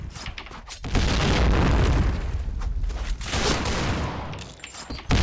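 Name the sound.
C5 explosive detonating in the video game Point Blank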